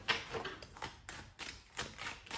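Tarot cards being handled and shuffled give a run of quick, close, soft papery taps and flicks in an irregular rhythm, quiet and alone.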